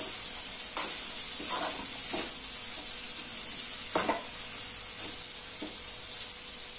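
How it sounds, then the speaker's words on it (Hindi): Bottle gourd and chana dal sautéing in a pan give a steady high hiss. A few spaced spoon scrapes and clacks cut through as the mix is stirred, and no one speaks. "और इसे अच्छे से भून लेंगे।"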